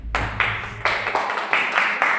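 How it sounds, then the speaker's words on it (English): A small group claps at an office birthday and manager-day celebration, a few seconds of uneven, fairly close hand claps swelling in bursts. "A round of applause, please."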